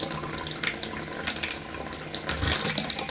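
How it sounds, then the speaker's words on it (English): Water runs steadily from an RV faucet while the lines are blown out with air to winterize them, a continuous rushing splash with slight sputters, close and fairly loud. "Get all that water out of the line."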